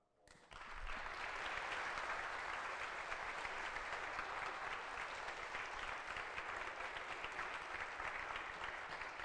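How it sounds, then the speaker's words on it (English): Applause swells quickly and holds as a dense, steady clapping from an audience, continuing evenly to the end. "Let's give a round of applause."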